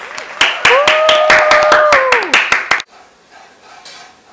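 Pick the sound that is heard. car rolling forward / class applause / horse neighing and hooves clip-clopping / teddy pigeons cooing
class applause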